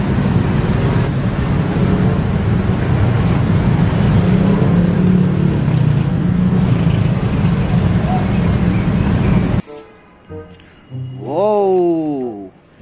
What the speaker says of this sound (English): Big green line bus.